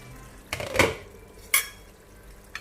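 A spoon stirs and mixes palak chicken in a pan, giving a few distinct close scrapes and knocks against the metal, separated by quiet gaps. No one speaks.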